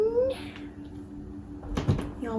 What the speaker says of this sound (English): you guys want to see my new kitten?